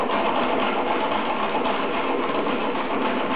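An engine runs in an oil demonstration, lubricated with expensive premium oil but suffering an oil leak, giving a steady, even mechanical drone close up with no pauses or talk.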